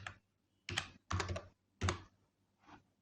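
Typing on a computer keyboard, close and crisp: four or five short bursts of rapid key clicks separated by brief pauses, with no voices.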